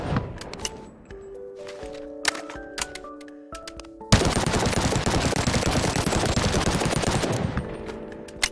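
An AK-pattern rifle with a drum magazine and bipod, RPD-style, fires in the Bonelab VR game: a few scattered single shots and short bursts come first, then a loud, dense sustained automatic burst runs for about three seconds before stopping.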